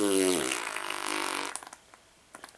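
A buzzy, descending fart sound effect blares loudly for over a second and then cuts off, followed by a few faint clicks, in a plush-toy comedy skit.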